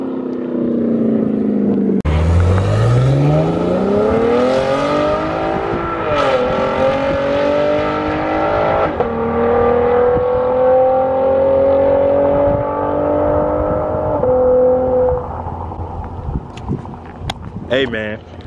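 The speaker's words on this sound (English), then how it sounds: "the shifts on that, on the V6 sound crazy" A 2019 Chevrolet Camaro 1LT V6 engine revs up hard, pitch climbing through several gear shifts with brief drops between them, loud and close, then easing off near the end.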